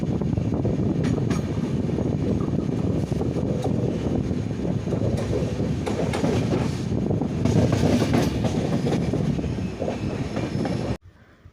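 Venad Express rumbling across the Bharathapuzha river bridge into Shoranur, a loud, steady roar of wheels and carriages with faint clattering and some wind buffeting, continuous until an abrupt cutoff near the end.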